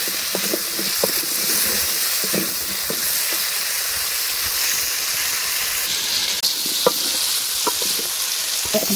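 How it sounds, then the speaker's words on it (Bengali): Potatoes frying in a pan on a home stove, a steady bright sizzle and hiss with occasional soft knocks and stirring clicks, close and continuous with no talking. "এই যে আলু ভাজলাম"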